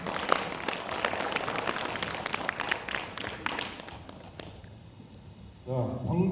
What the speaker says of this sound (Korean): 박수 한번 주시죠, 여러분.